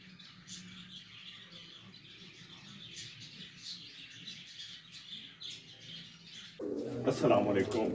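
Pigeons cooing and chirping inside a room where racing pigeons are kept, faint and scattered over a quiet background, before a voice cuts in near the end.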